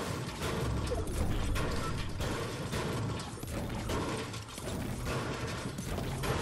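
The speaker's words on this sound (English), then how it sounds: "this pickaxe has a weird sound to it" Pickaxe striking in the Fortnite video game, a fast run of dense, rattling mechanical clacks and crunching hits repeating steadily.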